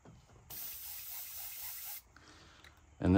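A paint spray gun hisses steadily for about a second and a half while spraying paint onto a fishing lure, a close, even airy spray that stops abruptly, followed by quieter handling sounds and a louder thump at the end.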